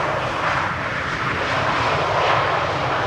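A passenger airliner touching down at Amsterdam Schiphol Airport with a bouncing wheelie landing, its engines giving a steady broadband roar that holds loud and close, with slow swells, for the whole stretch.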